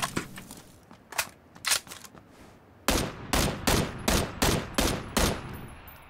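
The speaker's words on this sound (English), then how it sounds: "I'm just gonna shoot him with this M16." Rapid bursts of M16 rifle fire in the battle game PUBG, a few scattered shots followed by a steady run of about seven evenly spaced loud reports, with no talking.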